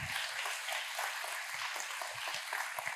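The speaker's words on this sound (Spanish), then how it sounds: "denle un fuerte aplauso a estos modelos." A church congregation applauds, producing a continuous dense clapping texture at moderate level with scattered low thumps, no speech over it.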